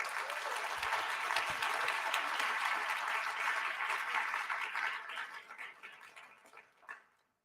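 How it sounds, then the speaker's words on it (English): Seminar audience applauding steadily for about five seconds, then the clapping thins into scattered claps and fades out with a final few. "Let's give a round of applause to all of them."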